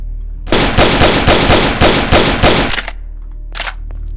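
A Russian Colt firing in Garry's Mod: a loud, close string of about eight rapid evenly spaced shots, then a brief pause and one more short report.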